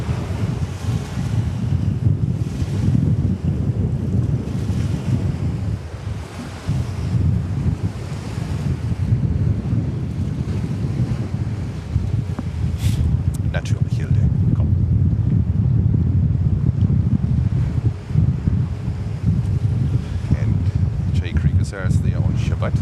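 Ocean surf rolls continuously along a shoreline near JFK Airport in New York, with strong wind buffeting the microphone; a steady, loud wash with a few faint clicks later on.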